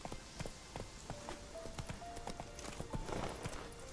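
Horse hooves clip-clop at a steady walking rhythm in The Witcher 3 video game, close and distinct over a quiet backdrop.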